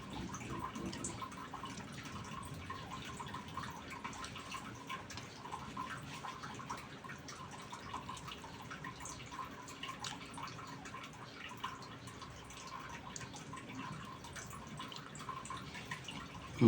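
Steady rain falls and drips outdoors, a dense continuous patter with scattered louder drops throughout, no voices.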